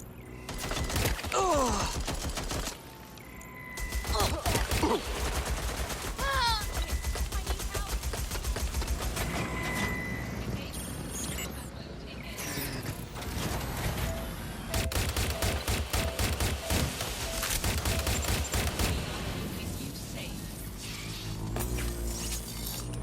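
Repeated gunfire in the video game Watch Dogs Legion on PS4: loud bursts and volleys of shots run throughout, mixed with other sharp game effects.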